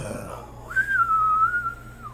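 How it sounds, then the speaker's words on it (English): A single person whistles a short, wavering tune close by, rising at first and then holding a steady sliding pitch for over a second, with a low hum underneath. "I can't whistle today, for God's sake."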